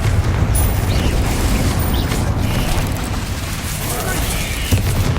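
Spell explosions from Bombarda and Confringo blasts in Hogwarts Legacy rumble continuously as dense, overlapping booms under a steady din of combat noise, loud and close throughout.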